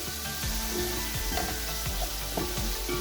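Two tomatoes and a few green chillies sizzle in hot oil over cooked garlic and ginger for a beef pulao, a steady close crackling hiss with light stirring scrapes.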